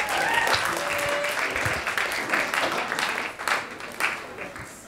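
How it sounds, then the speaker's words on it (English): Audience applause at a student union question time as candidates are welcomed to the stage, a steady dense clapping from a crowd heard at moderate level with faint voices mixed in. "Come on, round of applause."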